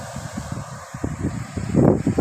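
Strong wind blows outdoors beside a road and rice fields in rural Thailand under cloudy skies with no rain. It buffets the microphone in uneven, rumbling gusts that swell louder toward the end.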